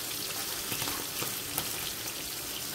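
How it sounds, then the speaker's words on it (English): Mushrooms fry in a pan with a constant, soft sizzle and crackle, with occasional sharper pops and stirring scrapes, and no voices. "While this one, I'm frying them"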